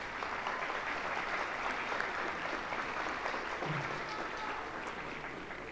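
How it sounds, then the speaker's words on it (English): Audience applause at a junior high school spring band concert, a dense, sustained clatter of many hands clapping in an indoor hall, steady and fairly loud throughout before easing slightly at the end. "One more round of applause for those great students."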